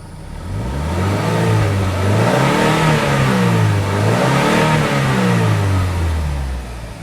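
A 2007 Saturn Sky engine revs hard through several rising pulls, the roar climbing in pitch, dropping at shifts, and climbing again, loud and close.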